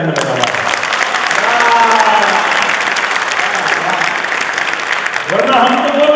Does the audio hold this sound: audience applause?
yes